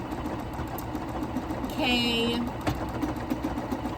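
A Juki F600 computerized sewing machine runs continuously while stitching out a word, a steady mechanical hum under a person talking, with a brief higher motor whine partway through.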